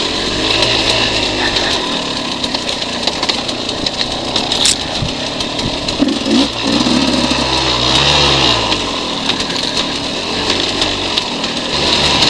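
Small 200 dirt bike carrying a rider and passenger over tree roots at the Kahuku Gran Prix race, its light engine buzzing loudly and steadily, rising and falling as it works over the bumps.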